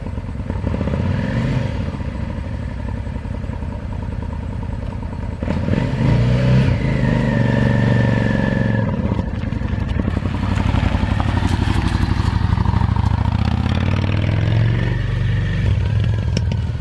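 A motorcycle rides around a rural dooryard, its engine loud and close throughout, with revving surges and steady droning passes and no talk.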